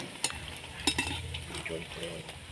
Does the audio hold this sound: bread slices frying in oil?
yes